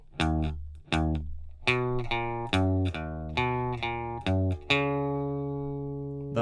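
Electric guitar with effects playing the intro melody of a song, a run of distinct plucked notes with a processed, buzzy tone that ends on a long ringing note, played alone with no talking.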